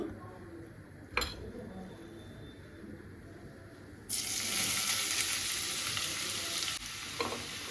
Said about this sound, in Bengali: ঘিটা তো ঘিটা দেখো গরম হয়ে গেছে এবার আমি গাজরটা দিয়ে দেবো